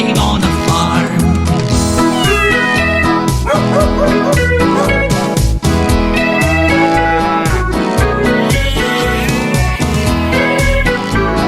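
Dog barks sound inside a busy, loud children's song about family and farm animals, mixed in with steady music and singing throughout.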